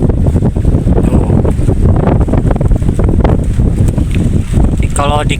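Strong wind buffets the microphone in a steady, loud roar while fishing from a bagan platform at sea near Tanjung Kait, with rough waves and someone talking throughout.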